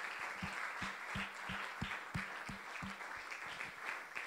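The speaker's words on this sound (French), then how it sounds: "Donnons encore une acclamation au Seigneur." A church congregation claps in unison during a worship service, a steady rhythmic beat of roughly three claps per second at moderate distance, with no talking.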